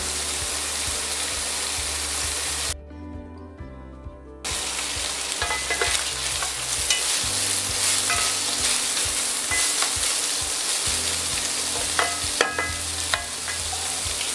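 Carrots and onions cooking in a pan for a spiced lamb brick dish, a loud steady sizzle broken by a brief drop around the third second, with light stirring clicks throughout.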